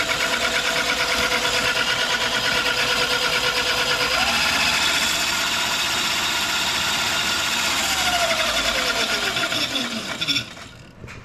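An electric motor clamped onto a Razor Quad and powered by a 36V LiPo runs loud and close with a steady high whine that rises and falls in pitch, with rattling mechanical noise, before cutting off near the end.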